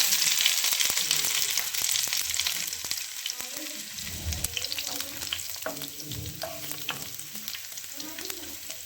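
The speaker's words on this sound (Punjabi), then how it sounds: "ਹੁਣ ਤੇਲ ਗਰਮ ਹੋ ਗਿਆ ਜੀ ਤੇ ਇਹਦੇ ਵਿੱਚ ਆਪਾਂ ਪਾ ਦਾਂਗੇ ਜੀਰਾ ਵਿੱਚ ਪਾ ਦਾਂਗੇ ਜੀ ਅਦਰਕ" Cumin seeds and ginger frying in hot oil in a pan, a steady close sizzle with crackling pops and occasional stirring scrapes, no talk.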